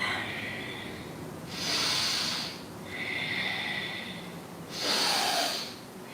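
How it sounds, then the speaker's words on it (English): Full, deep Ujjayi breaths during a calming yoga practice, slow audible hissing inhales and exhales in a steady rhythm, close and fairly quiet with no talking. "Full, deep Ujjayi breath."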